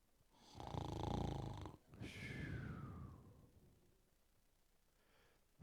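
A man imitates snoring with two long, loud, rasping snores, the second trailing off into a whistling wheeze, followed by quiet breathing.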